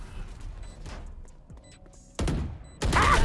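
Gunfire in the tactical shooter Valorant: two sharp, loud bursts land near the end, following a stretch of quiet in-game background ambience.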